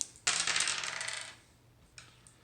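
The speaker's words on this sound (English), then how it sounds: "I'll roll 3-sided dice and check Povetkin's card to see what happens" Dice rolled for a boxing board game clatter in a loud burst across a hard surface, tumbling for about a second before settling, then a brief second clatter follows.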